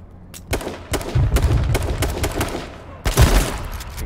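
Gunfire in the video game H1Z1, several loud bursts of rapid shots with a dense cluster in the middle and another volley near the end, close and punchy.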